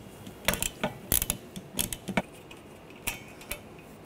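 A 15 mm socket ratchets a nut loose on a 2013-2019 Ford Escape 2.0L, giving quick bursts of close, sharp metallic clicks in uneven runs with short pauses between them.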